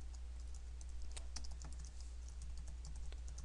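Quick runs of keystrokes on a computer keyboard, light clicks in close succession over a low electrical hum, with no voices.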